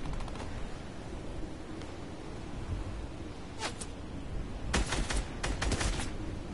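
Fortnite gunfire heard as a few sharp, distant shots cracking out in short bursts over a steady low background rumble, with no talking.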